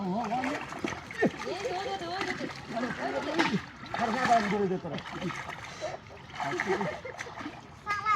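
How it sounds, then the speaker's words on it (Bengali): Water splashes and churns as villagers catch fish in a drained village pond, a continuous wet sloshing running beneath steady nearby chatter, with children's voices in the mix. "বন্ধুরা দেখো পুকুর সেচে মাছ ধরা হচ্ছে"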